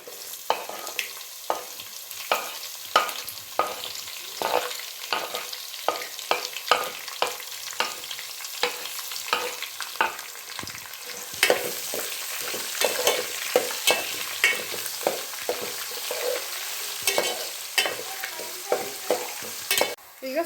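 Chopped onions fry in a pan while a spoon stirs them repeatedly, steady sizzling broken by regular scraping clicks throughout, moderately close with no talking.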